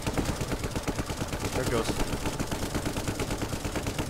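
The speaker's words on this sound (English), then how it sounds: "Oh, we got machine guns flying everywhere." Rapid machine gun fire in the Brick Rigs video game, a dense, steady rattle of shots that runs through the whole stretch while someone talks over it.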